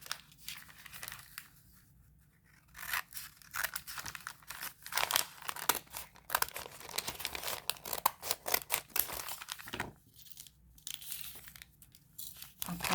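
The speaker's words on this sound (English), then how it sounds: "So you take this part of the bag, you just cut this part right off." Scissors cut through a paper bag up close, with quiet bursts of crinkling, crisp tearing snips and rustling handling of the paper, with no voices.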